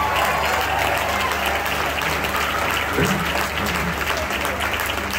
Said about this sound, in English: let's actually clap for a second